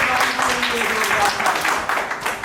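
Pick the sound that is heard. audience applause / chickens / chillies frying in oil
audience applause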